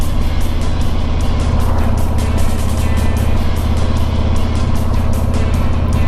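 A car drives at about 30 mph along the winding Tail of the Dragon mountain road on wet pavement, with a steady, loud rumble of engine and tire hiss and no talk.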